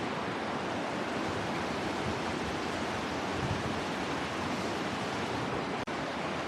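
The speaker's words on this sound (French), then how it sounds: "Joli ruisseau, hein, joli petit torrent qui va devenir une très grande rivière." The Dordogne runs as a small mountain stream near its source, making a constant, even rushing of water close by, with no voices over it.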